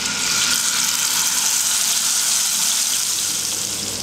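Marinated tandoori chicken set into hot oil in a pan on a gas stove gives a strong, even frying hiss that runs unbroken and close, with no voices over it.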